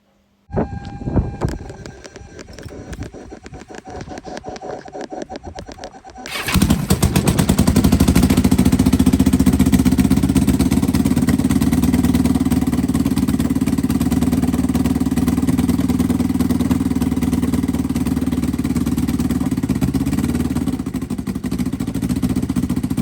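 A Kawasaki GPZ500 motorcycle engine under restoration cranks with a rapid mechanical clatter, catches after about six seconds and then settles into a loud, steady, close-up running note that holds to the end, with no talking.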